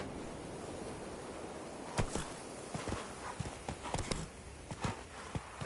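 Roach the horse's hooves clip-clop in The Witcher 3, an uneven run of soft thuds and clacks over a low outdoor bed, growing a little louder toward the end.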